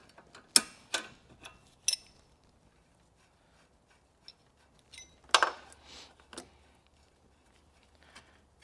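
A wrench clicks and clanks against a brake line fitting on a Mazda RX-7 FD3S during an ABS delete install, a few sharp metallic taps and ratcheting bursts separated by quiet gaps, close by.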